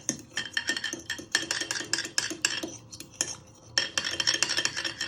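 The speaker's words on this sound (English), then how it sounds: "you want to give them a little whisk with the fork, and you want to give them a good beat" Eggs whisked with a fork in a mixing bowl for chocolate chip muffins: quick, close, rhythmic metal clinks and taps against the bowl in steady bursts, with a short pause partway through and no talking.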